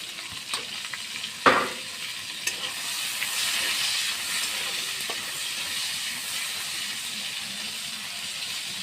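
Tomatoes and slit green chillies sizzle in a hot pan, a steady hissing fry after a sharp clatter as they go in, with a few faint stirring clicks.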